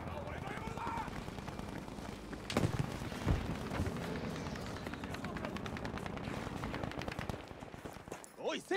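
Gunfire in Battlefield V, with M1 Garand shots among the action, rings out in dense, overlapping bursts and sharp cracks throughout, a few louder reports standing out, with a voice talking over the battle.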